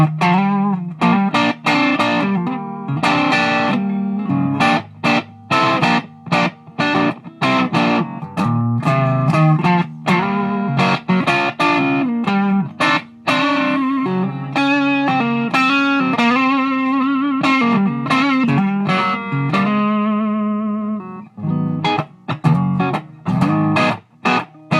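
An electric guitar played through a Boss DS-1 distortion pedal rings out chords and riffs with a crunchy, overdriven tone, strummed in rhythmic bursts with brief pauses, loud and close with no voices.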